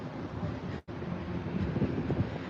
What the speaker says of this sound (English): the breezes, the wind, the gusts